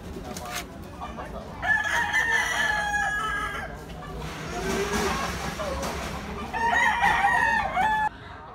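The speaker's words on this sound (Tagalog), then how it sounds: "Guwapong manok ni tatay, Windows." A white-legged rooster, a stag gamecock, crows loudly twice, each long call up close, with low clucking from other fowl underneath and no talking.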